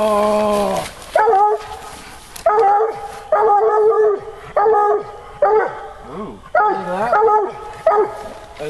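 A coonhound at a hunting dog event bays and howls loudly and close, in long drawn-out bawls repeated about seven times with short gaps between them.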